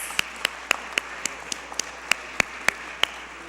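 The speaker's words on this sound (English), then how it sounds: "I want one more round of applause for these teachers." A round of applause for teachers at a county board of education meeting, heard as sparse, evenly spaced claps that ring out sharply over a quiet room for a few seconds.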